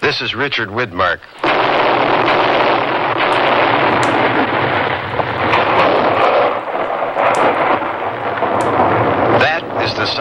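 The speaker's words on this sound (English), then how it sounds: "That is the sound of a United States Forest Service artillery team clearing an avalanche in the" US Forest Service artillery team firing blank shells to clear an avalanche in the Colorado Rocky Mountains: heavy, rolling booms that rumble and echo continuously, preceded by a voice.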